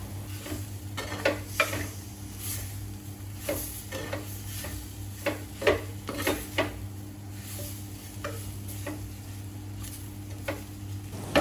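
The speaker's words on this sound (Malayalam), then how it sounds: "ഇനി ഇതെല്ലാം കൂടെ നമുക്കൊന്ന് മിക്സ് ചെയ്തിങ്ങായിട്ട് ഇളക്കി കൊടുക്കാം" A spoon scrapes and clicks steadily against a pan while a sweet pulinji mixture with dates is stirred, with irregular taps over a low, constant background hum. No one speaks.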